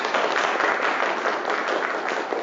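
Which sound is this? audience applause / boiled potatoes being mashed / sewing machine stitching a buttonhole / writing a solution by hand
audience applause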